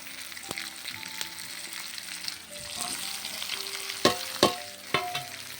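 Chopped spring onion greens sizzle in spiced oil for a traditional Jalgaon-style bharit, a steady fry with a few sharp utensil clanks and scrapes near the end, no talking.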